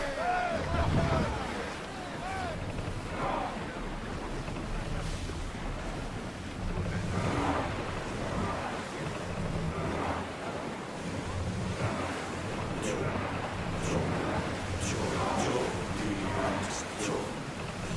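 A sailing ship moves across open water in Assassin's Creed Odyssey, with continuous surf, wave wash and gusting wind across the whole stretch, plus occasional faint creaks and splashes.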